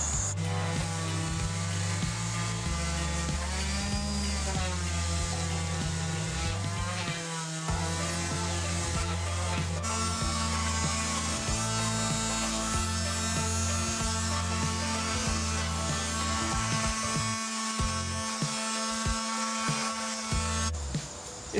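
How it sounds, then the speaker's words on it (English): A power sander grinds steadily at the wooden tongues of a handmade tongue drum, a loud continuous buzzing whine that shifts pitch under changing pressure, running without pause and with no voices. "I'm going to try to sand them thinner"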